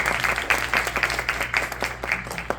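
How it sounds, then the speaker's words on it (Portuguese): An audience at a medical school lecture applauds a urology speaker with a few dozen people clapping unevenly, individual claps standing out in an irregular rhythm at moderate volume and with no talking. "Vamos bater palmas, gente."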